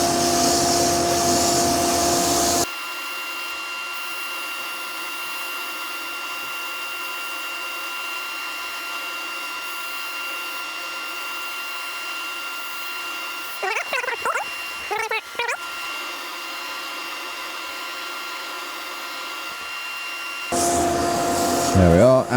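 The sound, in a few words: abrasive sanding a wooden crochet hook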